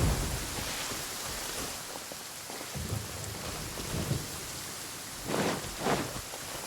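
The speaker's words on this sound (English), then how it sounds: "It's raining again." Steady rain pours across a stormy landscape in the video game Genshin Impact, with low rumbles of thunder rolling in the background and a couple of brighter thunder cracks near the end, with no talking.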